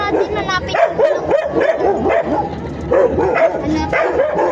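A dog barks repeatedly in short, loud, close bursts with a few whimpering yips, while people talk and shout in Tagalog around it.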